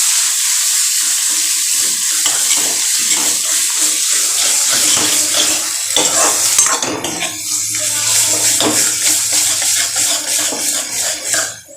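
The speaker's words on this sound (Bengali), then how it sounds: "এবার এটা ভালো করে ফ্রাই করবো।" Turmeric, Kashmiri chili powder, coriander-cumin powder and salt fry in a pan, giving a loud continuous sizzle with scraping and clinking of a utensil stirring throughout.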